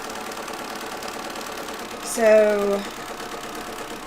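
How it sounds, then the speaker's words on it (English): A sewing machine stitches fat quarter quilt pieces together in a short, fast mechanical whir lasting under a second, heard up close after a brief spoken word against a quiet room hum. "we are just getting our third fat quarter set sewn together"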